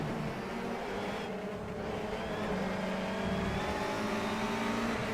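A race car engine held on the rev limiter in rFactor 2, a fairly faint, buzzing, steady engine drone with slight pitch wobbles and no speech.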